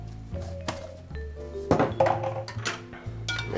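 Bolognese sauce with tomato stirred in a pan, a spoon knocking and scraping against the metal in irregular close thunks and clinks.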